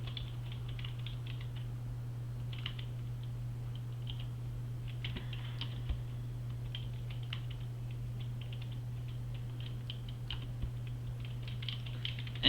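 Steady computer keyboard typing while coding, a continuous patter of close key clicks over a constant low electrical hum, with occasional sharper keystrokes.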